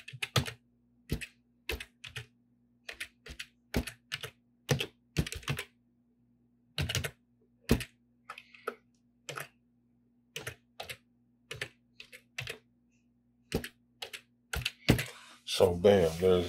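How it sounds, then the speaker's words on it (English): Computer keyboard keys tapped in short irregular bursts of clicks while text is entered, close and moderately loud, with brief pauses between runs and a louder rustle at the end. "Just type it in."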